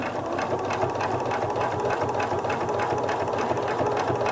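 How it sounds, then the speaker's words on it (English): A sewing machine hums and clatters at a steady, rapid rhythm while stitching fabric binding on a flower appliqué pot holder, loud and close with no talking. "you would continue stitching all the way down to the end of the binding"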